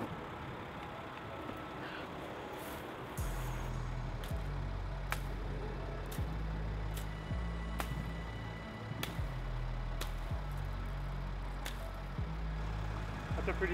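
A 2018 Mercedes Sprinter 4x4 climbs a sketchy urban hill in low range, its engine a steady low drone that rises in labored surges, with occasional sharp knocks and clatters over it and talk in the background.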